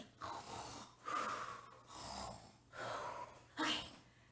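A group of children imitate snoring with their voices, five rough breathy snorts in a steady rhythm, each a drawn-out snore-like exhale, fairly close and alone without talk.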